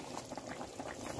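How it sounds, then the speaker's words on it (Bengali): Thin fish curry bubbling at a rolling boil in a pot on a village stove, soft irregular blips and gurgles, quiet and close with no voices. "মাছের ঝোল কিন্তু তাহলে টকবক করে ফোটা আরম্ভ হয়ে গেছে।"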